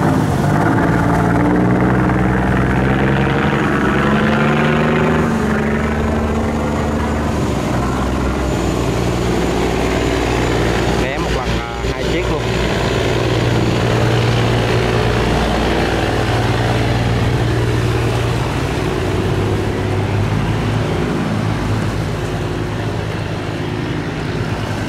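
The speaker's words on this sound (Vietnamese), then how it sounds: "Ở gần gần nghe tiếng động cơ xuống lắm các bạn." A barge engine on a river drones loudly and steadily up close, a heavy continuous rumble with wind and water noise and no break throughout.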